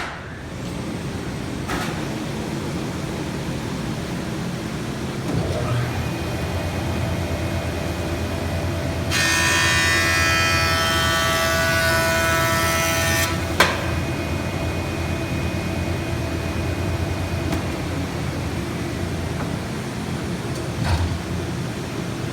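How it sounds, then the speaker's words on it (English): Shop vacuum running steadily beside a woodworking cutter, a continuous whirring drone with a brief burst of higher machine noise in the middle, heard alone at close range. "And I'm going to turn my vacuum on."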